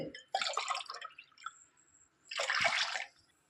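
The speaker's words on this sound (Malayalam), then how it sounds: "അപ്പോൾ 3 ഗ്ലാസ് വെള്ളം ഒഴിക്കുന്നുണ്ട്" Water poured into a pan for rice flour, splashing in two bursts with drips between, near and soft.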